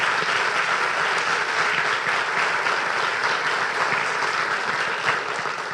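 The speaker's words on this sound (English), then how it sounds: "please join me in giving our panelists just a round of applause" A conference audience at a housing supply summit applauds its panelists, a dense, steady round of clapping holding at an even level for several seconds, with no voices over it.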